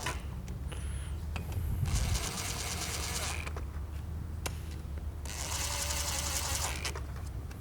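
A ratchet runs down bolts on a Fleece Performance intake and grid heater kit on a 6.7L Dodge, producing bursts of rapid close clicking separated by short pauses.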